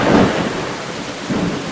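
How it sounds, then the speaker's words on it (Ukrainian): Heavy rain pours steadily as a dense wash while deep thunder rumbles in two swells, the first loud and near, the second softer, with no voices. "заходьте, тут дощ, мов стіна."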